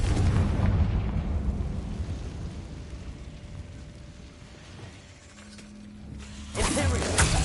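In Hogwarts Legacy, a Confringo fire spell blasts with a heavy booming burst at the start, rumbling off into quieter game ambience, followed by a second sharp impact near the end.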